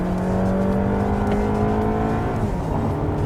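A 2022 Toyota Camry 2.5 G with a 2,500 cc engine accelerating on a test drive. Engine drone and tyre roar are heard from inside the cabin, with a steady rising tone as revs climb, loud and continuous.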